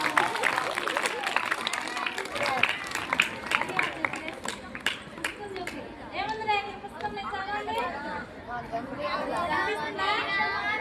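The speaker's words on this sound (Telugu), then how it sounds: "క్లాప్స్ కొట్టండి ఒకసారి అందరూ" Schoolchildren in a classroom break into a burst of clapping that tapers off, mixed with excited chatter and voices that continue throughout.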